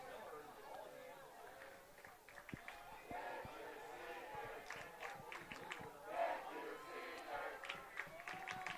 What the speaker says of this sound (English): Panther crowd thanking the seniors for their play.